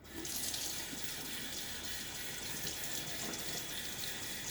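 A water tap runs steadily into a sink while a shaving brush is rinsed, making a constant, fairly quiet hiss of flowing water with no voices.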